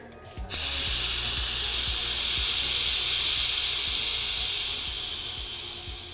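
Air rushing into a vacuum chamber: a sudden rush bursts in, then settles into a loud, steady hiss that slowly fades over several seconds.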